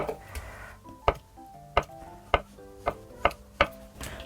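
Thick, deliberate knife cuts land on a cutting board as ingredients for a Korean blue crab stew are sliced, six crisp evenly spaced chops sounding close and clear.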